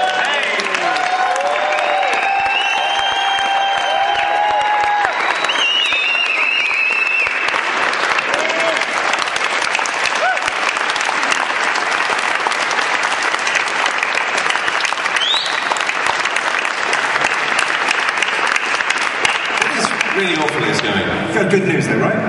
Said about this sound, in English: Maybe everyone feels like we ought to give him a round of applause.